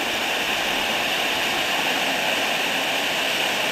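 Waterfall in the Sant Aniol gorge canyon, a steady loud roar of falling water that fills the whole clip with no pauses.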